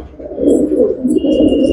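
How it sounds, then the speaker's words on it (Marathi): A Nila Dubba racing pigeon from Handewadi coos close by, a steady low throaty rolling that carries on without a break, with no talk over it. "मस्त कबूतर आहे"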